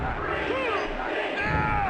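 A wrestling arena crowd chanting in the WWF Attitude video game, a dense, continuous roar of many voices with rising and falling shouts that holds steady throughout.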